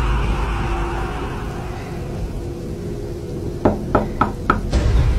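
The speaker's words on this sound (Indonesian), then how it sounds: "Oh, dengar cik itu pintu doang." Knocking on a door, four sharp raps in quick succession near the end, close and loud above a steady background hiss, with no talking.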